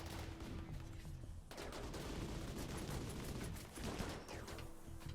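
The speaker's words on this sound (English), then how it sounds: "See the Gauss rifle just tear through them." A Gauss rifle firing in a video game, heard as dense, continuous crackling volleys over a busy battle din, fairly steady and faint throughout with a brief dip midway.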